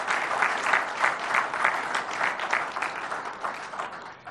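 A crowd at a formal political speech applauds warmly in rhythmic waves, swelling and easing over about four seconds with no voices over it.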